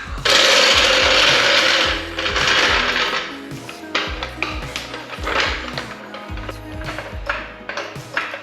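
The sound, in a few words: car jack being operated under the wheel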